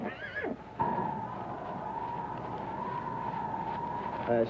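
A horse gives a short, falling whinny right at the start, then a steady, fairly loud tonal drone with rumbling background carries on to the end.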